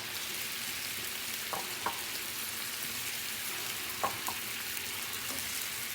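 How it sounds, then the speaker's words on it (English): Butter sizzles in clam juice sauce in a pan for seared scallops with a Marsala wine caper sauce, a steady hiss throughout with a few faint clicks and no talking. "We're gonna throw in a little bit of butter."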